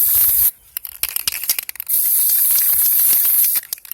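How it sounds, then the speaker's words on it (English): A spray glitter aerosol can sprays onto cups in long hissing bursts, with short pauses and rustling between them, close to the microphone, outdoors in strong wind. "spray a little bit before you put it on the cups"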